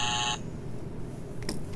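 A quiz buzzer pressed by a contestant gives a sharp electronic tone lasting about a third of a second, followed by low room noise and a faint brief blip near the end.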